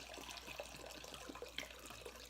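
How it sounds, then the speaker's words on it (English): Bourbon poured into a measuring cup while canning drunken peaches, a soft, steady liquid trickle and splash heard close up with no talking. "I'm going to pour bourbon into a measuring cup just to make it easier to measure."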